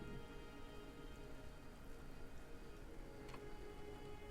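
Faint, steady rain patters continuously on a surface in the video game King's Quest (2015), a soft even hiss with occasional light ticks.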